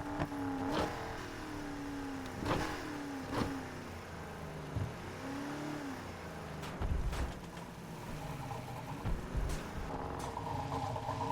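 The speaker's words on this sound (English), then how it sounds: "listen to that fucking supercharger." A supercharged car engine in the racing game Need for Speed: Heat revs repeatedly, with rising and falling whine and several sharp bursts and gear changes, fairly quiet and without talk.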